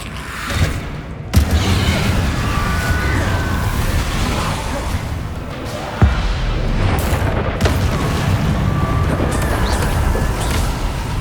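Spell blasts in Hogwarts Legacy combat: loud booming explosions and crackling bursts over a constant rumble of battle, with two sharp heavy hits standing out.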